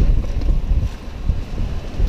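A gale of about 35 knots, gusting near 40, blows over a sailboat far offshore southeast of North Carolina under a double-reefed staysail, making a loud, steady, buffeting roar of wind and sea with no talk.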